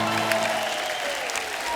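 Studio audience applause on a comedy TV show fills the moment as a guest singer is welcomed, a dense, continuous wash of clapping that holds steady and close without speech.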